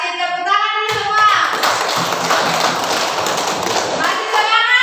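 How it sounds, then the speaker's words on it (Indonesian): A class of schoolchildren clapping their hands in unison, a loud, sustained burst of applause that swells quickly and runs for a few seconds between bits of voice. "Tepuk tangan dulu semua."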